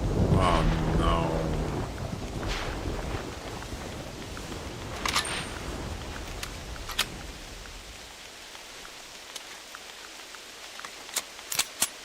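Thunderstorm in the hunting game theHunter Classic: a loud rumble of thunder and steady rain wash over the opening seconds, then fade into quieter rain with sharp crackling strikes near the end.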